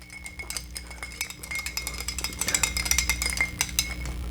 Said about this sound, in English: let's give that a stir and see how it goes